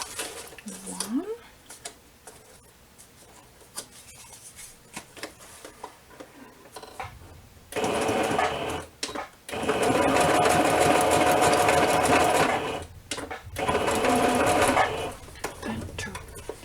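A sewing machine runs in bursts, its motor whirring loudly for a few seconds at a time between quieter stretches with soft handling noises.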